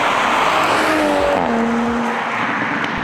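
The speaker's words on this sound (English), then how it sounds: "The exhaust sound is just fantastic." A Toyota Supra's engine and exhaust pull hard under acceleration, a loud, steady roar with a rising tone sweeping up through a gear, close and alone with no talk.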